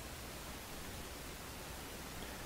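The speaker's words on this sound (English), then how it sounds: "I currently have the ceiling fan going, and my PC tower is sitting right next to me. So there's probably quite a bit of hissing." A ceiling fan runs with a PC tower close by, giving a steady, faint broadband hiss that holds evenly throughout with no voices.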